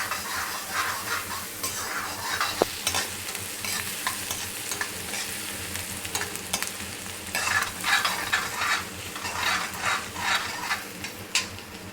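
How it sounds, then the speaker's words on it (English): Chopped onions frying in oil in a kadhai while a utensil stirs and scrapes them, giving a steady close sizzle broken by irregular scraping strokes, with no talk. "We need to stir the onions properly so that they are hash brown or golden brown"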